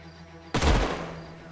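Gunfire from an attack on an air unit in the video game Age of Wonders: Planetfall, a single sharp shot-like burst that rings out and decays over about a second, with no talking.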